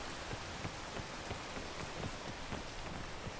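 Rain in the video game Peak falls steadily as a dense, even hiss with scattered soft drop patters, continuous and fairly loud with no talking.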